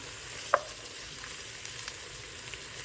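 Soft, steady sizzling of onions frying in a hot pan, continuous and fairly quiet, with a single light clink near the start.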